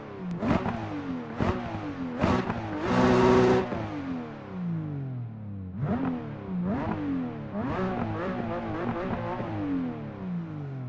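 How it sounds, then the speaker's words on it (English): A Porsche engine heard from outside revs in several sharp bursts, rising and falling with a crisp snarl, then settles into repeated throttle blips and a rough idle, fairly close and clear with no speech. "that distinct Porsche engine sound"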